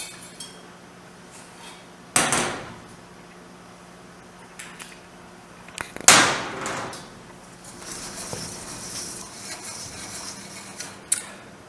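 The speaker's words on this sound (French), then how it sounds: "Nous allons commencer par mélanger la farine avec les œufs" Flour being mixed with eggs in a bowl for crêpe batter, with a couple of loud metal-on-bowl clanks and scraping and whisking clatter between quieter pauses.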